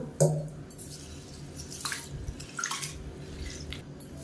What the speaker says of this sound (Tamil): இப்போ இதில் தண்ணி ஊற்றி ரெண்டு மூணு தடவை கழுவி எடுத்துக்கலாம்